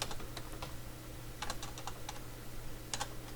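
Scattered keystrokes on a computer keyboard while a remote BBS message address is edited, with irregular clicks and small bursts over a steady background hum.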